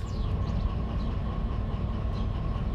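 DE6 diesel locomotive running in the train simulator game Derail Valley, a steady heavy low rumble with a faint tonal whine on top, continuous and close with no speech.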